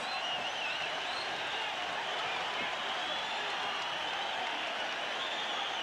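A boxing crowd roars after a knockdown in the Jeff Fenech vs Carlos Zarate fight, a dense, continuous wall of cheering at steady volume with a commentator's voice faintly mixed in.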